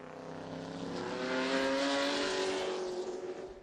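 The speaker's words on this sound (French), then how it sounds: "Voici une Ferrari 512M de 1970." A 1970 Ferrari 512M race car at Le Mans Classic roars past, its engine note rising as it approaches, peaking loud and close, then fading slightly as it pulls away.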